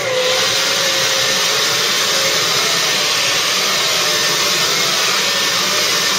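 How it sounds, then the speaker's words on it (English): A vacuum cleaner drones steadily and loudly throughout, a constant motor whine with a broad airy roar and no pauses. "I'm going to just do some vacuuming here."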